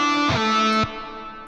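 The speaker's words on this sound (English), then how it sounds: "Reverb." A sustained distorted electric guitar chord, processed with a long, wide reverb, shifts pitch briefly, then cuts off and leaves a fading reverb tail with no talking.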